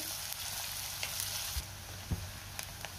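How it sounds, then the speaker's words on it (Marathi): Onion fries in hot oil with a soft, steady sizzle, joined by a few faint scrapes and knocks of a stirring spoon, heard close but quiet and with no voices. "तेल गरम झाले, त्यामध्ये आपण कांदा घालूया आणि कांदा आपण चांगला गुलाबी रंगावर परतून घेऊया."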